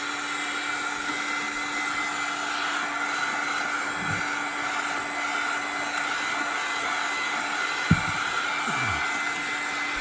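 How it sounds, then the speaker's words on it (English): A heat gun drying watercolor paint on an embossed flower card blows a continuous loud whooshing drone with a steady hum, close and unbroken for the whole stretch, with a single sharp click near the end. "You want to have your heat gun up higher."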